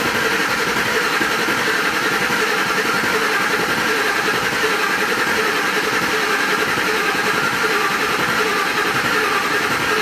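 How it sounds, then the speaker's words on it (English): A car engine cranks and runs while a pressure transducer is connected for a test, giving a loud, steady, unbroken mechanical drone with no voices. "Gonna hit start and go ahead and crank it, Aaron."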